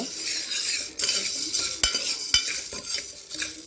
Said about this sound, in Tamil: இப்போங்க தட்டைப்பயிறு மீடியம் டீ வச்சு அப்படியே வறுத்து விட்டுக்கலாங்க